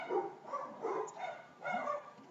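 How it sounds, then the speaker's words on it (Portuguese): Dogs barking in a series of short bursts, three clusters of yips and barks, somewhat distant and muffled, in an indoor setting with no talk. "parece que os nossos cachorros não estão concordando"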